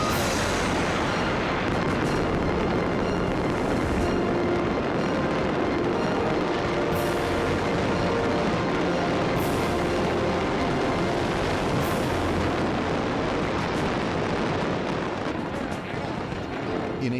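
Fireworks boom and crackle in a dense, continuous barrage, loud and unbroken, with occasional sharper bangs standing out from the roar.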